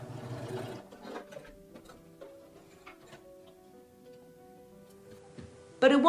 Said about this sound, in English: I'm stitching it down in a few places by machine because I'm lazy